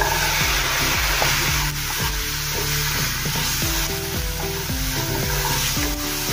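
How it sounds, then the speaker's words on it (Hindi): Boiled white peas tumble into hot spices and amchur powder frying in a pan, giving steady close sizzling with repeated scraping stirs throughout and no talk. "अब इसमें हम मटर डालेंगे।"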